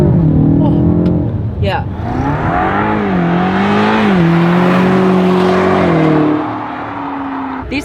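Over 700-horsepower Brabus-tuned Mercedes E63S sedan accelerating hard, its engine note climbing and sweeping steadily for several seconds, loud and close, with a brief voice heard over it.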